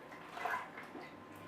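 Water splashes and trickles as a brush is rinsed in clean water over a sink while inking ceramic yarn bowls, a short, soft, close wash with no talking.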